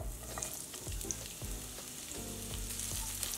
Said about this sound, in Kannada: ಈರುಳ್ಳಿ ಕೆಂಪಗೆ ಹುರ್ಕೊಳ್ಳೋಣ